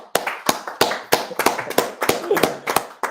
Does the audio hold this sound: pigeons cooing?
no